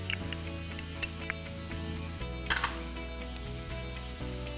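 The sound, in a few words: chopped onion and capsicum frying in hot oil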